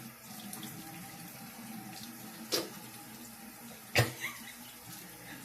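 A sink tap runs water to wet hair down before styling, a quiet steady trickle with two brief splashes.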